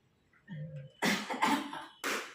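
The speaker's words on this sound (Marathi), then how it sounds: "मला खोकला येतो" A short vocal sound, then three harsh coughs in quick succession, close and fairly loud.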